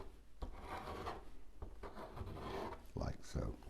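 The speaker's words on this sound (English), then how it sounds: "Just an old credit card. And scrape over and have some rocks." An old credit card scrapes paint across paper in several rough, rasping strokes, quiet and close, as rocks are painted in a landscape.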